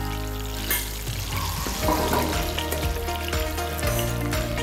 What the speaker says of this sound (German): Kirschtomaten haben wir noch ein wenig gewendet im Fett drinnen, dass sie gleichmäßig ein bisschen anbraten können